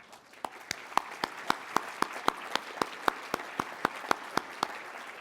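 Sparse, steady clapping at the Bryden Awards alumni ceremony, distinct individual claps landing roughly four times a second over a soft wash of background noise, sounding like only a few people applauding with no voices over it.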